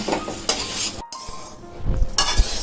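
Basmati rice fries in a wok as a metal spatula stirs and scrapes it, giving short clinks and scraping strokes over a light sizzle, close by with no voices.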